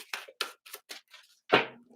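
A deck of tarot cards is shuffled up close in a few quick, crisp riffling bursts, followed by a louder final snap of the cards.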